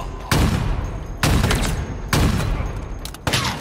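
Bursts of heavy automatic gunfire in the game Halo Infinite, with several loud close volleys separated by short pauses.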